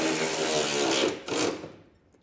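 A power tool fitted with a 13mm socket runs on a nerf bar bolt of a 2012 GMC Sierra, giving a loud, steady whir that briefly drops out and restarts before winding down.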